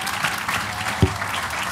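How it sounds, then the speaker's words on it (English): A round of applause from a small group of friends at a casual gathering, dense clapping throughout with one sharp low thump partway through. "Give a round of applause"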